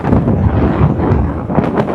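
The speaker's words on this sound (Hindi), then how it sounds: "आज हवा इतनी देर चल रहा है ना, एकदम पूरा मुंह कान सुखा दे रहा है, बहुत तेज हवा है" Strong wind buffets the microphone outdoors while travelling by vehicle: a dense, continuous roaring rumble with uneven gusty swells and no pauses.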